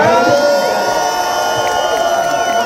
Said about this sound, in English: how about we get one more round of applause for Marcus Allen right here?